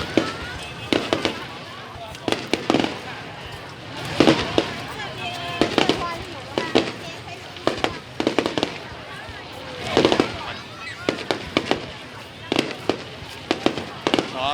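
Fireworks for the fourth day of the 2019 Lunar New Year (Tết) burst in repeated sharp bangs and crackles at irregular intervals across a long stretch, heard with people chatting nearby throughout.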